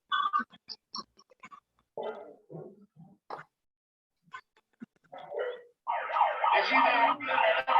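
A wailing alarm sound effect sweeps up and down loudly near the end, after scattered short tones and brief bursts of speech-like sound.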